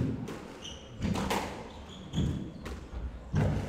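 Squash ball strikes and wall thuds in a women's squash final, several sharp hollow hits at an uneven rally rhythm, with squeaking shoes and a faint crowd murmur in the court around them.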